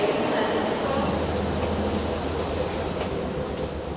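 A South Western Railway train in London rumbles along steadily from inside the carriage, a continuous low drone with faint rhythmic wheel noise and people talking over it.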